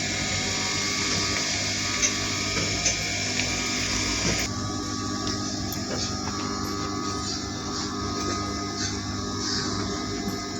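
A sewing machine top-stitches the lining of a one-sleeve panel dress with a steady, close mechanical whir and rapid needle chatter. The pitch and texture shift partway through as the stitching goes on, and no one speaks.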